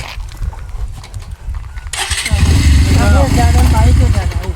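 A motorbike engine rumbles steadily up close in a comedy sketch, growing louder midway as it revs, with people talking over it throughout.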